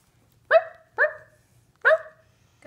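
A French bulldog barks three times in quick, spaced bursts, close and clear, with a fourth bark starting at the end, in a quiet indoor room while playing.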